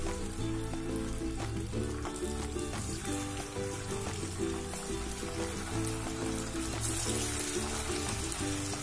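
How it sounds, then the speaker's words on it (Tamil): Sardines shallow-frying in hot oil in a pan on medium flame, a steady dense sizzle and crackle that stays loud and even throughout, with a low background hum. "ஸோ எண்ணெய் இப்போ காஞ்சிருச்சு, ஃபிஷ்ஷை போட்டுடலாம்."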